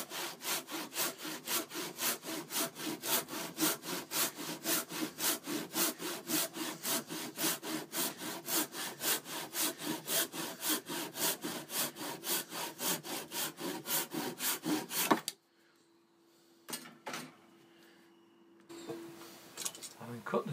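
A hand saw cuts a wooden tenon for a large gate with fast, regular back-and-forth strokes, loud and close for about fifteen seconds. The sawing then stops abruptly, leaving a faint hum and a few light knocks.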